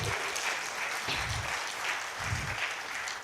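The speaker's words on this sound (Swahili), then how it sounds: "Tuwapigie makofi." Applause from a church congregation for its youth at a pastors' prayer day in Nakuru County, a steady crowd clapping in a large room that carries on for several seconds with faint voices underneath.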